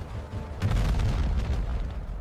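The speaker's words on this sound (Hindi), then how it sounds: "अचानक पानी में हलचल शुरू हुई और फिर एक के बाद एक जोरदार धमाके।" A deep, rumbling explosion swells and rolls on for about two seconds, heavy and booming, from ships being blown up in the water during a 1971 naval attack.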